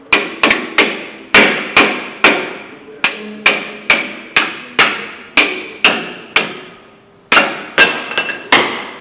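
Sharp metallic hammer strikes on the brake caliper of a 2011 Ford F-150, about twenty blows in an uneven rhythm, each ringing briefly before the next, loud and close.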